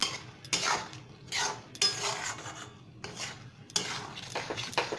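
Kasuri methi stirred into masoor dal tarka in a pan: a spoon scrapes and clinks against the pan in distinct strokes, close and fairly quiet.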